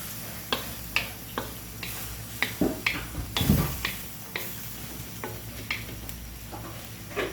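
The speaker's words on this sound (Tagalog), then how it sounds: "Ang nagpapasarap kasi dyan mga boss yung toyo nagigisa" Soy sauce sautés in a pan for pancit bihon under a low, steady sizzle. A spatula scrapes and taps against the pan at irregular intervals. The sound is close and plain, with no talk.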